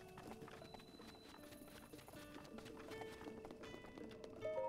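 Horse hooves clip-clop at a steady trotting pace in The Legend of Zelda: Breath of the Wild, with soft sustained music tones underneath.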